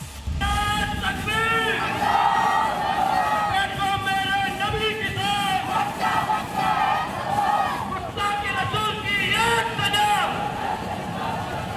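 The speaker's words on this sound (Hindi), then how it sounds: "जब मुस्लिम भीड़ 3 बत्ती चौराहे पर इकट्ठा हुई तो कट्टरपंथियों ने भड़काऊ नारेबाजी की" A large crowd gathered at a busy street junction chants provocative slogans, repeated shouted calls rising and falling in waves over a dense babble of voices, loud and continuous throughout.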